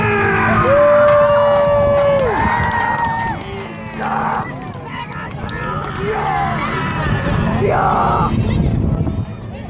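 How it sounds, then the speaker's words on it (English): A large crowd cheers and whoops loudly, with yells and a babble of voices rising and falling throughout. "let's get a big round of applause to Megasaurus!"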